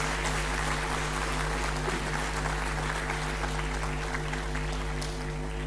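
Steady audience applause at an alumni conference session, continuous and even throughout over a constant electrical hum, moderately loud.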